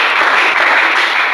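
A church congregation in Gabon applauds to acclaim God: steady, dense clapping from many hands, sustained and fairly loud throughout, with no voices standing out.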